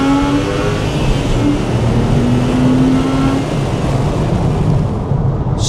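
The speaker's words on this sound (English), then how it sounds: "let's give you a little second gear pull down here" A C2S sports car's rear-mounted engine roars loudly as it accelerates hard in second gear from about 23 mph, the pitch climbing steadily and then easing off near the end.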